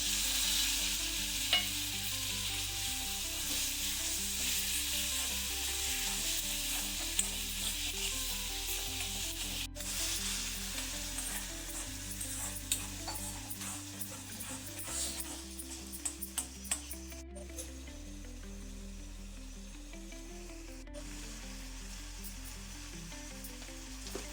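Mutton tossed into fried masala for a dry mutton sukka fry, sizzling steadily in the pan while a spatula stirs and scrapes, the frying hiss continuous and close throughout.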